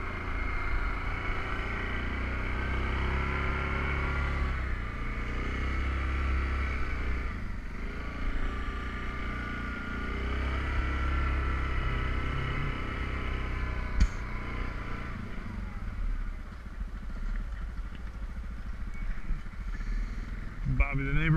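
A Yamaha Grizzly 700 EPS ATV plowing through snow at Redhawk Valley, its engine droning steadily and close with shifts in load, while someone talks over it throughout.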